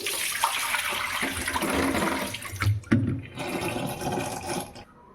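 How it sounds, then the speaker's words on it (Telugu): Soaked idli rice and urad lentils are rinsed in water by hand, a close, continuous sloshing and splashing that swells and dips, with a sharper slosh near the middle. "ఇలా బాగా ఒక 2 మాటలు కడుక్కొని తర్వాత మనం నీళ్ళు పోసి పెట్టుకోవాలి."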